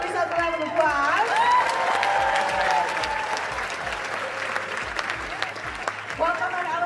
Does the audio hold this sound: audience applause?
yes